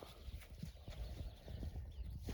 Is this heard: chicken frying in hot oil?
no